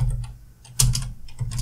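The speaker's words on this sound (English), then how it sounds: "we can type" Fingers type on a computer keyboard in a brief, quiet run of key clicks. The presses come in small uneven clusters, close by, with no talking.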